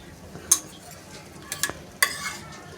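Ground coriander and chilli paste stirred into a sizzling pan of Rajasthani urad dal, a soft steady sizzle broken by a few sharp scrapes and clinks of a spoon against the pan.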